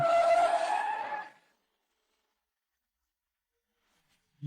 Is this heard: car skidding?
yes